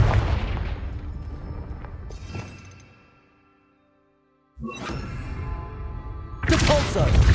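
Confringo fire spell blasts in Hogwarts Legacy, heavy booming bursts with crackling decay, a quiet gap, then a sharp new blast and a louder sustained roar near the end, with a voice speaking over parts of it.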